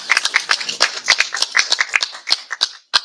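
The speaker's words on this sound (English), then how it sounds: "So I will ask for a big clap for him." Audience at a justice-for-children launch event in Pakistan applauds steadily, a dense patter of many hands clapping close and fairly loud, briefly thinning near the end before a final burst.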